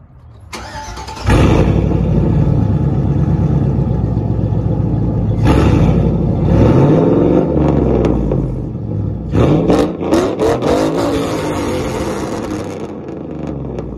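A Chevrolet Silverado with a 4.8 V8, long-tube headers and no catalytic converters cranks, catches and idles with a loud, raw exhaust rumble, then gets several sharp revs that swell and fall back to a choppy idle.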